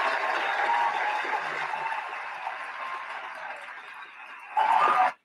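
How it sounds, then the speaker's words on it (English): A recorded clap track on a talk radio program gives a steady wash of applause that slowly thins, then swells back briefly loud before cutting off. "There ain't nothing like a good clap track"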